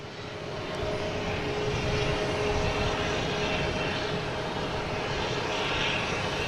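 An airliner on its retirement flight at Boston Logan International Airport gives a loud, steady roar of jet engines with a thin whine on top, rising in the first second and holding close and strong to the end.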